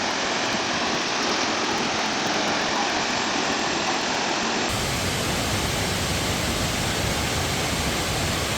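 A waterfall in Laos near Pakse roars as a loud, steady broadband rush of falling water that fills the whole scene without any talk.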